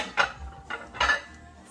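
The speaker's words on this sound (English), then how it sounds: "so I'm going to grab a plate right here." Dishes and cutlery clink in a home kitchen while a plate is grabbed, two or three close, bright clattering bursts over faint background hum.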